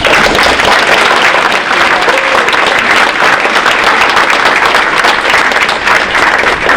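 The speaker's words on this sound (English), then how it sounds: "So how about a round of applause for our coaches." Audience at a winter varsity athletic awards ceremony applauds the coaches, loud, steady, dense clapping filling the whole stretch with a faint crowd murmur beneath.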